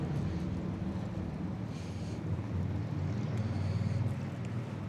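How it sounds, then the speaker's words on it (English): Outdoor wind rumbles steadily across a microphone near the town square in Corydon, Indiana, a constant low buffeting with slight gusts and no voices. "It's getting kind of windy out here."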